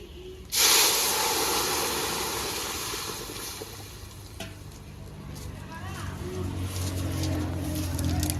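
Green chillies, dried chillies and black mustard seeds hit hot oil for a tamarind sour dish of puti fish and taro, making a sudden loud hiss that slowly fades into a steady sizzle, with faint background voices.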